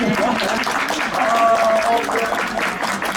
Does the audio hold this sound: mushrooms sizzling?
no